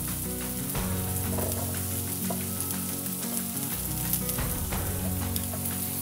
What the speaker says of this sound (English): And we continue to let fry